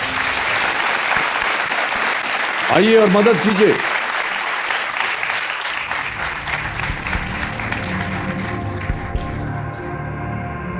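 Loud, dense studio audience applause on the Hindi quiz show KBC, sustained throughout with a brief voice breaking through midway and the clapping thinning toward the end.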